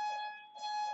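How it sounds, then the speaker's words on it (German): A workout interval timer gives off a loud, steady electronic beep that breaks briefly in the middle, heard alone at close range at the end of a CrossFit class. "Und wir hören es piepsen in 3,"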